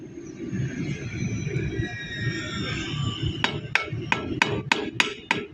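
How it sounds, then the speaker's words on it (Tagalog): A hammer taps on Isuzu Elf truck transmission parts: about seven sharp, evenly spaced metallic strikes near the end, close and crisp over a low background rumble. "Alalayan mo lang yung pukpok para suwabe yun."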